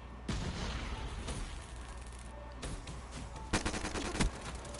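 Pistol shots in a video game: a few sharp, fairly quiet reports spaced through a brief stretch, with a quick cluster of rapid shots near the end over low background game noise.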